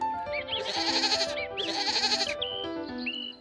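Goats bleating in a Filipino-dubbed Heidi cartoon, two long wavering bleats in close succession followed by a shorter one, loud and clear with no talk.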